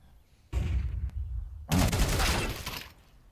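Gunfire from a Counter-Strike match, with a short loud burst followed by a sustained stretch of dense rapid shots that fades at the end.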